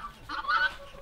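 A farmyard rooster and hens cluck in a short, close burst of clucks that rises and then fades, heard alone without talk.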